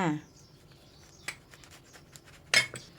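A knife slices a bread salad roll filled with crab sticks in half, giving a few faint, sparse taps and crunches against a board, with a brief voice at the start.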